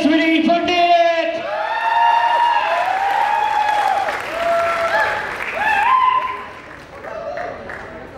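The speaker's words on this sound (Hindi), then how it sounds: "जोरदार टाळ्या" Audience applause rings out at a film trailer launch event, loud and sustained under a speaker's amplified voice, with crowd noise fading toward the end.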